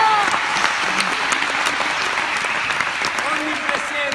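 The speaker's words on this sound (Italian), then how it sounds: "applauso." Steady, dense applause from an audience at a sports training camp gathering, continuous and fairly loud throughout with a few faint voices mixed in.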